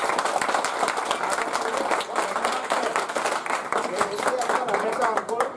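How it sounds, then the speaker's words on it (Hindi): A crowd at a public gathering in Nagda claps to welcome officials. The applause is dense and continuous, loud and close, and holds steady for several seconds with speech mixed in underneath. "इसके लिए इनका स्वागत तालियों से।"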